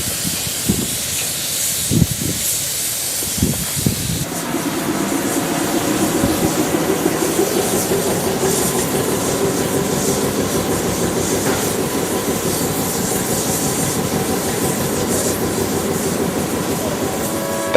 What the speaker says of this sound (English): A loco sitting around doing nothing, with drivers on board, appears to be the norm at Jaipei Shed